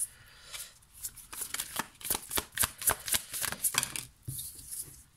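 Playing cards riffle and slap in quick bursts of shuffling, followed by a few separate snaps as cards are drawn, close and moderately loud with no voices.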